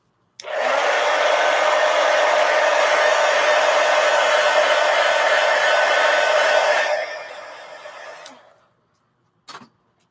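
Heat gun blowing hot air, a loud steady whooshing blast for about seven seconds that tapers off as it powers down, followed by a brief click, with no talking.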